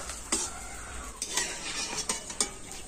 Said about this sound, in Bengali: আর এইবার আমি সমস্ত আলুর চিপস গুলো ভেজে নেব